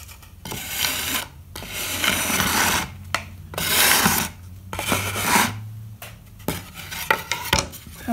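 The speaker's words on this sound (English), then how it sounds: "I'm gonna have to kind of scrape that out of the way" Excess solder is scraped off a stained glass piece in repeated harsh, rasping strokes, several bursts separated by short pauses, heard close up and alone.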